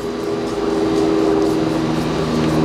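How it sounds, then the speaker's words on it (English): A low, steady rumble of an airplane passing in the distance, a continuous droning hum with no talking. "You can hear an airplane in the background."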